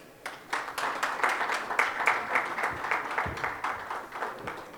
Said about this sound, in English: Huge round of applause, ladies and gentlemen